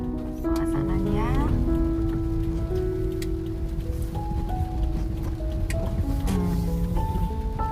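Steady rain falls throughout on the streets of Panton Labu in North Aceh, a dense continuous patter under passing traffic hum and tonal engine or horn sounds, with no voices.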